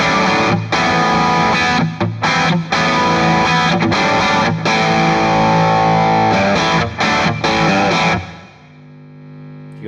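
Electric guitar chords pass through a JAM Pedals Double Dreamer dual overdrive pedal, giving a loud, dense, gritty strummed tone with short breaks between hits and a final chord ringing out at the end.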